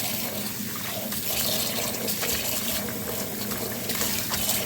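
Tap water runs steadily into a sink while freshly harvested coriander is rinsed, a continuous close hiss and splash with slight surges and no voices.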